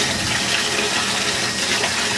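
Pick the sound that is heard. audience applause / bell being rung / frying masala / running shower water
running shower water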